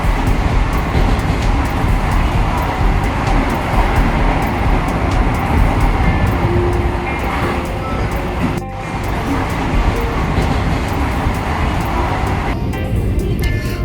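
Passenger train on the line between Barrackpore and Ranaghat, heard from inside as a loud, steady rumble with rattling wheels and carriage noise, a brief dip midway, and faint background chatter.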